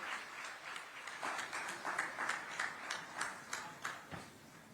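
An audience applauds to welcome Chief Minister Vishnu Deo Sai at a public event, a steady, rhythmic spatter of many hands clapping, fairly faint and distant.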